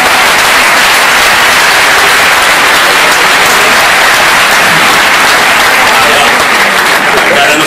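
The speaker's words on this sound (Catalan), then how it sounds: "un aplaudiment pels companys de la premsa." Loud, dense applause from the crowd at an ERC political rally in the Metropol hall in Tarragona, continuous close-up clapping filling the room without a break.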